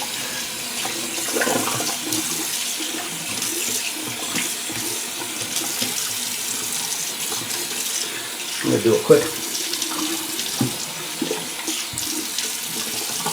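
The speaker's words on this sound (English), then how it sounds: "Let me just get some fresh water in the sink." Tap water runs steadily into a sink with a continuous splashing hiss, while a person speaks briefly over it and some clattering occurs.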